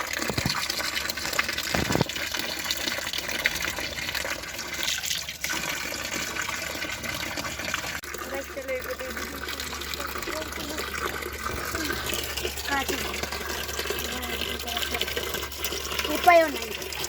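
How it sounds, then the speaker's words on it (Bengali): Water runs from a tap into a bucket on a rooftop, a steady gushing fill that lasts throughout, with a person talking over it. "বালতিতে এখন পানি ভরতেছি।"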